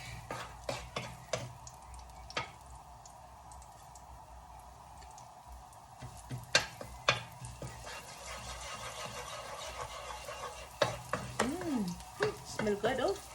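Garlic fries in oil not yet fully hot for fried rice, giving a quiet sizzle broken by sharp spatula taps and clinks that grow busier near the end, with no voice heard.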